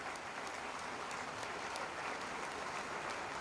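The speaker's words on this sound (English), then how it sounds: "Please clap for them." Audience applause at an ICAN induction ceremony, a steady dense patter of many hands clapping at moderate volume, continuous across the whole stretch with no voices over it.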